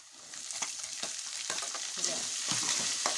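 Peanuts and green chillies fry in hot oil for a seasoning, sizzling steadily while a spoon stirs them with repeated scraping strokes close by.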